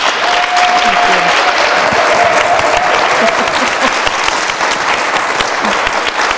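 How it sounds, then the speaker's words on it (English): An audience at a festival awards session gives a round of applause, a dense, loud, continuous clapping that holds evenly throughout, with a faint voice briefly audible near the start. "Let's have another round of applause."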